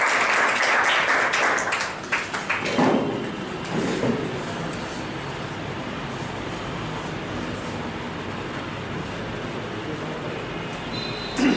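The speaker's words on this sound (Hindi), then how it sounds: "अर्चना संगम की गोष्ठी में एक बार तालियां बजाकर अर्चना जी का उत्साह होता है।" Audience applause at a Hindi poetry gathering, a dense burst of clapping at the start that fades within a few seconds into a steady murmur of room noise.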